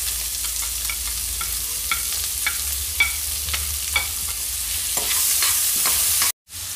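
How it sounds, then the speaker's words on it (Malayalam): Onion and carrot sautéing in a pan with garlic and ginger for a healthy pasta dish, a steady close sizzle broken by repeated scraping stirs and a brief dropout near the end, with no talking. "ഈ ടൈമിൽ സവാളയും ക്യാരറ്റും നമുക്ക് ചേർത്ത് കൊടുക്കാം."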